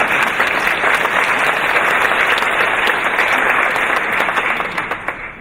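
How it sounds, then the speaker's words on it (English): An audience at an evening charity show bursts into sustained, loud applause, the thick clapping continuing steadily before tapering off slightly at the close. "Now, you can clap me in."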